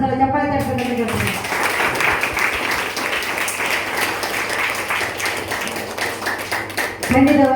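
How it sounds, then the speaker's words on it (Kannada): An audience at a Yakshagana performance breaks into steady, dense applause lasting several seconds, with a voice speaking just before and after. "ಎಲ್ಲರೂ ಕೂಡ ಒಂದ್ಸಲ ಚಪ್ಪಾಳೆ ತಟ್ಟಬೇಕಂತ ಕೇಳ್ತೀನಿ"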